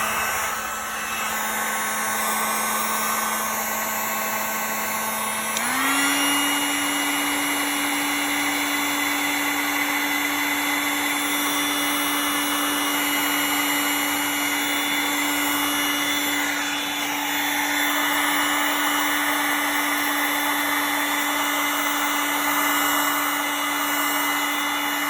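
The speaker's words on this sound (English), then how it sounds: "get the heat gun out. Just obviously put an appropriate amount of heat, not too much, so you split the actual tubing, but it'll just reduce in size" Heat gun blowing hot air to shrink heat-shrink tubing over car ignition wiring on a Ford Sierra based Locost kit car, a steady loud whine and rush running continuously, stepping up slightly in pitch early on and holding without a break.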